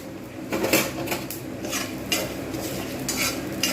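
Dried red chillies and whole spices stirred in a metal pan over low heat, a spoon scraping and clinking steadily against the pan with a faint sizzle underneath, close and continuous with no voices.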